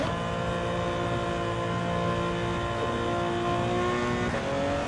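Race car engines in Gran Turismo 7 hum and whine steadily, sustained tonal engine notes holding and shifting pitch as a car idles on track and others pass, fairly loud and without talk.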